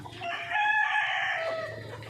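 Free-range hens eating green fodder, a close, loud burst of clucking and a drawn-out crowing-like call from the flock, with no talk.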